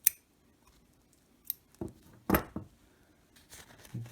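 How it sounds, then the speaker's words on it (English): Scissors snip through the outer layer of a COVEX CX100 fabric face mask to free the nose wire, giving a few short, crisp cuts spaced apart in a quiet room with no talking. "you very carefully nick the outer layer of the mask, and you snip"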